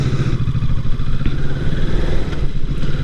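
A motorcycle engine running loud and close while a rider and his little brother cruise along, a steady throbbing mid-pitched drone with slight rises in revs and some clatter, alone without talk.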